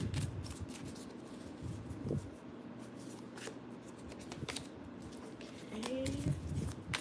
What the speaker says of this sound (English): So let me go ahead and shuffle these cards.